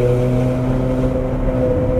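Ferrari 430 Scuderia V8 with a Capristo valved exhaust running at around 4,000 RPM, a loud, steady, continuous engine drone with strong low harmonics and no talking over it.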